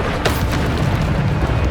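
Bombarda spell explosion in Hogwarts Legacy, a loud rumbling boom with a dense low roar that sustains through the whole moment.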